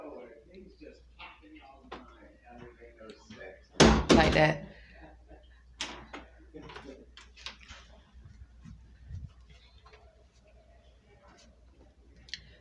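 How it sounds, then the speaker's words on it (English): A door opens and closes in the night, heard as a loud close thunk and rattle midway, with smaller knocks and clicks around it under quiet talk. "And so this is what we hear in the middle of the night. Someone is opening and closing the door."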